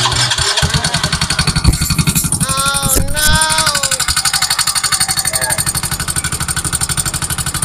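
A Yamaha Mio Soul i 125 scooter that ran low on oil idles close by with a steady, rapid, rough knocking pulse from inside the engine, while a bleating-like squeal briefly rises over it midway.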